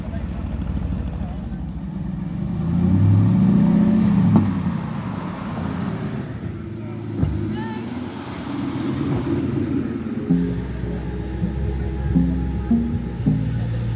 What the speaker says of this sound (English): As we watch many beautiful cars turn up